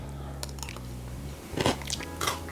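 Someone bites into Danette chocolate cream mixed with crispy balls, giving a few sharp crunches near the middle and end, close and fairly quiet.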